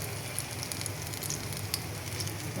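Egg chops deep frying in hot oil for a home iftar meal give off a steady, even sizzle with faint crackles, soft and continuous with no voices.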